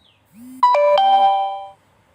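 A short chiming notification tone rings out once on a OnePlus phone as a WhatsApp verification code text message arrives, clear and close against a quiet background.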